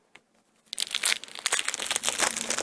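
Plastic packaging from a jewelry subscription box is pulled open up close, starting with a faint tick and then turning into loud, continuous crinkling and tearing.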